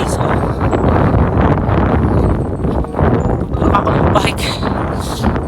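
Strong wind at Smoky Lake, Alberta, buffets the microphone in loud, continuous roaring gusts, with rustling and a few brief higher clatters near the end.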